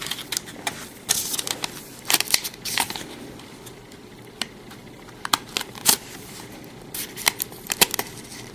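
Screentone sheet being peeled off a manga drawing page, heard as a series of close, sharp crackling and ticking bursts spread over several seconds, with quiet gaps between them and no talking.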